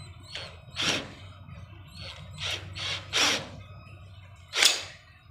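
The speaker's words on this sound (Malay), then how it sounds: "kita akan uh, ah, skru dulu uh, satu dia punya frame" A power driver sets screws as cement board is fastened onto a frame, giving short whirring bursts separated by brief pauses, fairly close and with no talk.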